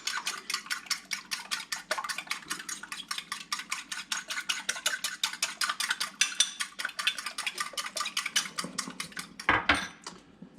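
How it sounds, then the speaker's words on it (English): Eggs whisked briskly in a bowl for a French omelet, a fast, even run of light rhythmic clinks against the bowl that lasts the whole stretch, close and clear with no talking. "You want to whisk the eggs completely."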